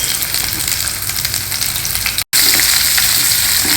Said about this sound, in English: Next, add in one onion sliced like this.